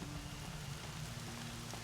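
Rain falling in the video game Horizon Zero Dawn, a steady, soft, even hiss of drops with a low hum beneath, faint and continuous throughout with no talking.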